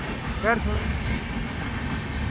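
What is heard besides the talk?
passenger train running on rails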